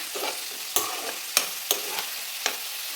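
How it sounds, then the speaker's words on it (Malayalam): Onion, crushed garlic and green chili fry in a pan while being stirred, with a soft steady sizzle broken by several sharp scraping clacks of the spoon against the pan at uneven intervals, close and alone. "നന്നായിട്ട് ഇളക്കി കൊടുക്കാം."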